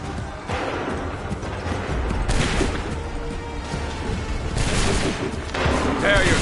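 Musket volleys in Assassin's Creed 3 crash out as dense, rolling rumbles of fire, loud and layered over a constant battle din. Shouted commands sound among the shots.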